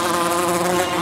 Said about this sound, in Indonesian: Wih, apa ini lebah?